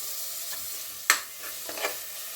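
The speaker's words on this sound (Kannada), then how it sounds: "ಸೊ ಇವಾಗ ನೆಕ್ಸ್ಟು ಟೊಮೆಟೊ ಕಟ್ ಮಾಡಿದ್ನಲ್ಲ ಅದನ್ನು ಹಾಕ್ತಾ ಇದ್ದೀನಿ" Chopped tomato dropped into hot oil for chicken biryani, a soft continuous sizzle with one sharp splash as it lands, then brief stirring taps, close and fairly quiet.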